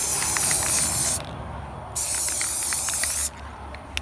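A spray can lays sealer coats over a waterslide decal on a mug: two long, loud, close hissing bursts separated by a short pause, then quiet, with no talking.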